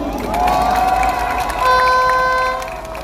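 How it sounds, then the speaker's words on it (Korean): A crowd at a candlelight rally welcomes 5.18 honorees with loud, continuous cheering and clapping, with whistle- or horn-like tones sounding over the noise before it eases slightly at the end. "큰 박수로 환영해 주십시오"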